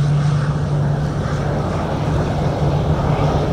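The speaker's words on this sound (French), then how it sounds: "le Super Tucano s'élance pour un circuit de 4 tours à 1000 pieds, soit 300 mètres d'altitude" A Super Tucano propeller aircraft flies a circuit at about 300 metres, its engine a steady, continuous drone with a constant low hum and no voices.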